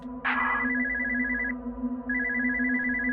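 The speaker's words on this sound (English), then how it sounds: "somebody pick up that phone" In the video game Spooky's Jumpscare Mansion, a telephone rings with a warbling electronic trill in two bursts separated by a short gap, over a low background hum.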